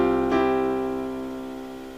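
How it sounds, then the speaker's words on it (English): A single suspended chord strummed once, its bright harmonic-rich tone ringing out and slowly fading over two seconds, close and alone. "The chords I'm playing here are known as suspended chords or simply sus chords."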